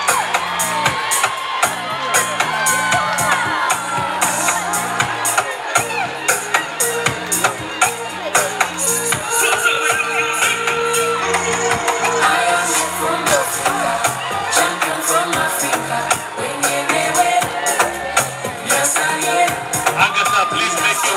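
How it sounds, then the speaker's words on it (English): Audience at the Miss Uganda 2025 pageant cheering and applauding the second runner-up, a dense, loud wall of clapping, whoops and shouts sustained throughout, with voices mixed into the crowd noise. "Ladies and gentlemen, let's give her a big round of applause."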